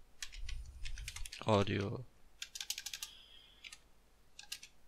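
Close, quick keystrokes on a computer keyboard come in irregular bursts, with a short spoken word interrupting partway before the typing resumes.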